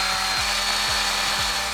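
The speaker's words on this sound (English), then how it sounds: "I'm just gonna run my hand sander over the edges to smooth them out." A loud, continuous power sander whirs against wood edges, smoothing them, with a rhythmic rubbing pulse as it passes back and forth.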